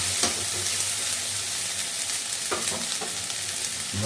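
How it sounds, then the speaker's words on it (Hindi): Sizzling of softened tomato masala being stirred in a hot frying pan, a steady close crackle broken by a few sharper scrapes of the spoon against the pan. "अब इसको चलाएंगे। देखिए टमाटर गल गया है"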